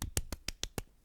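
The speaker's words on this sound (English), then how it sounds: "I will clap." Six sharp hand claps from a single person, spaced fairly evenly, close and moderately loud, then a faint seventh tap. No one speaks.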